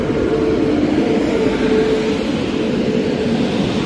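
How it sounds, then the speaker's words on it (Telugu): Konark Express pulling in behind a WAP-7 electric locomotive, a steady loud low rumble and rolling roar that holds constant throughout, with no voices. "వ్యాప్ 7 లోకోమోటివ్తో ద బ్యూటిఫుల్ కోనార్క్ ఎక్స్ప్రెస్ అయితే వచ్చేసింది."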